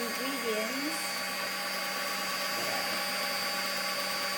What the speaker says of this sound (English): we need to use a blender to mix the ingredients